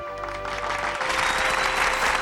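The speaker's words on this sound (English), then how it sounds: "also the applause sound alert" An applause sound alert on a live game stream: a steady wash of crowd clapping and cheering that swells slightly and holds loud throughout, with faint background tones underneath.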